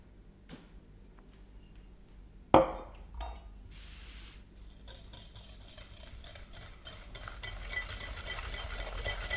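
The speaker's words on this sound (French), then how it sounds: "je bats les jaunes avec du sucre jusqu'à ce que le mélange devienne bien mousseux" Egg yolks are beaten with sugar in a bowl; after a single knock, a whisking swish builds steadily and grows louder and busier toward the end.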